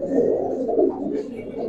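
Giribaz pigeons coo softly in a low, murmuring, continuous stream, heard close up and moderately loud, with a brief rustle or flutter at the end.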